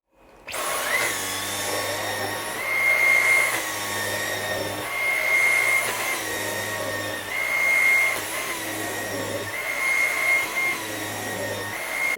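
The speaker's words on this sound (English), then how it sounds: "You guys vacuum your guys' couches often?" A vacuum cleaner runs steadily while cleaning a sectional couch, a loud continuous whine with a droning motor hum that pulses slightly in strength as the nozzle moves, with no talking.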